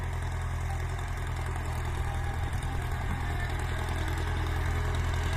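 A Ford 7740 tractor's diesel engine runs steadily at a low, even idle with a faint mechanical clatter, heard from a moderate distance without any talking.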